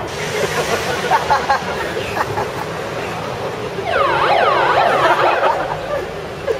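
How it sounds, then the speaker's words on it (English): A wailing siren with rising and falling sweeps sounds close by over a busy crowd murmur, growing louder toward the end. "It's close to a police siren, yeah?"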